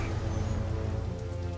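Steady rain falls in the 1930s city streets of the Mafia Definitive Edition game, a continuous wash of patter with a low rumbling bed beneath and no talking.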